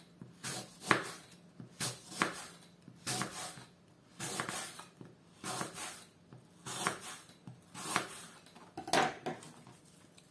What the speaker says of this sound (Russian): Вот такими тонкими дольками надо нарезать яблоки.